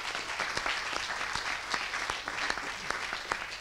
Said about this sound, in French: On applaudit une nouvelle fois les membres du jury